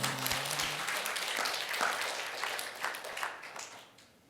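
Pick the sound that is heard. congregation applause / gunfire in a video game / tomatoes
congregation applause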